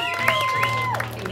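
A club audience at a live band show gives a brief round of applause for the studio owner, a short burst of clapping under a voice speaking over it.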